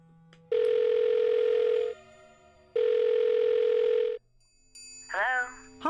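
Telephone in a video game: two long, loud steady ringback tones separated by a pause, followed by a brief burst of dialing tones and a warbling electronic sound.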